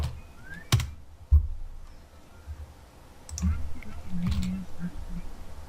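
Computer keyboard typing, a few sharp isolated clicks early on followed by a cluster of softer keystrokes, close by, with faint talk underneath.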